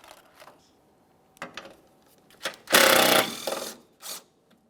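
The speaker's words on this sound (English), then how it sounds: "Go ahead and remove that mounting bolt." Tool work on a 10mm mounting bolt holding a washer reservoir section on a 2008–2017 Mitsubishi Lancer: a few short close metallic clicks and ratcheting bursts, one longer rattling run in the middle, with quiet gaps between.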